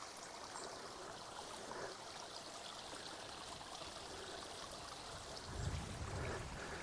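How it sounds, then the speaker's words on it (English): Water of a stream running off the hills at Bohernabreena Reservoir Park, a steady broadband rushing and trickling that holds at an even level throughout, with a brief low bump near the end. "Can you hear the water from the stream, look?"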